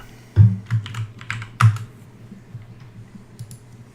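Keys clatter on a computer keyboard while a config file is typed on Ubuntu, a few close, loud bursts of keystrokes that thin into sparse, quieter taps.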